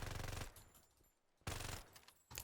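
Uzi submachine gun hip-fired at close range in Farlight 84: two short, faint bursts of rapid automatic fire, the first at the very start and the second about a second and a half later, with a quieter tail after each.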